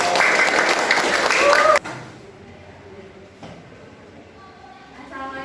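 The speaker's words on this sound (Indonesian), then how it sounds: "tepuk tangan ya buat kelompok" A short burst of group applause, many hands clapping together, that stops abruptly after about two seconds, followed by quieter room sounds and voices.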